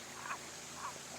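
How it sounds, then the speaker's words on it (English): A northern green frog at a rocky garden wildlife pond gives two short, twangy croaks about half a second apart, faint against steady outdoor background hiss. "So I'm being croaked at the moment."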